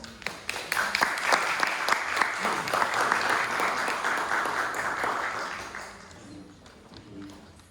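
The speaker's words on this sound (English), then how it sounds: "Give him a solid applause." An audience breaks into enthusiastic applause, dense clapping that holds steady for several seconds and then tapers off to a few scattered claps.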